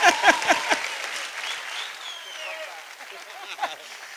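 An audience at a live stand-up comedy show applauds a manager, with a crisp burst of dense clapping at the start that thins into a steady, softer patter over a lingering voice.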